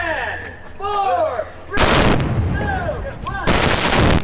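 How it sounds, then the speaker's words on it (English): Small pyrotechnic explosions detonated on a movie set during a robot fight scene: two loud, broadband blasts, one at about two seconds and another near the end, each sustained with debris-like roar, between quieter passages with faint background tones. "Small explosions are detonated on set during a robot fight scene"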